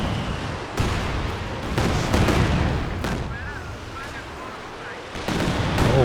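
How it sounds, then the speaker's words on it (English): Katyusha rocket artillery barrage in Company of Heroes 2, a loud run of booming blasts and crackling impacts coming in repeated waves over several seconds, with battlefield rumble between them. "Oh, great Katyusha."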